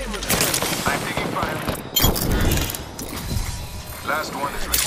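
Rapid automatic gunfire and mechanical clatter strike the robot Pathfinder in Apex Legends, dense and loud bursts with a brief gap midway, with game sounds layered throughout.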